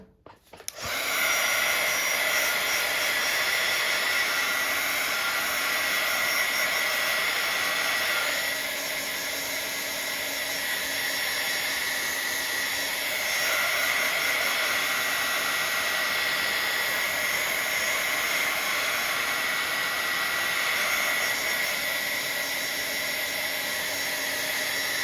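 A heat dryer blows steadily on a craft layer, making a loud, continuous whirring rush that runs nearly unbroken for the whole stretch with only slight shifts in tone and no talking.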